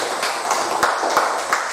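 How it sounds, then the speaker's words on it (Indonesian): Schoolchildren clapping in a classroom, a short burst of bright overlapping claps at a fairly close distance with a few sharper individual hits, and no talk. "Ya, bagus, tepuk tangan"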